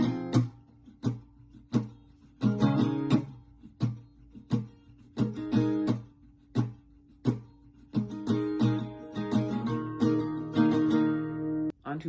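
An acoustic guitar plays the second part of chorus 2, with rhythmic strummed chords that grow busier and denser in the second half.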